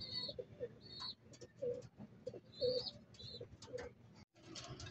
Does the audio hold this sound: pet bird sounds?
yes